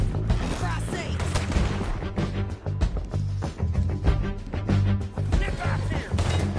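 A Red Dead Redemption 2 shootout is in full swing, with dense rapid gunfire cracking and booming almost without pause at close range, alongside shouted voices.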